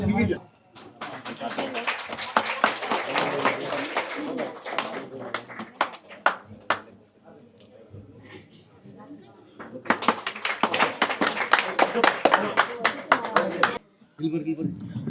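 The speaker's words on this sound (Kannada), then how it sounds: "ಜೋರಾದ ಚಪ್ಪಾಳೆಯೊಂದಿಗೆ" Loud applause from an audience at a Santavani devotional program during the Vitthal Rukmayi Dindi festival in Harihara, two long dense bursts of clapping separated by a quieter stretch with talk.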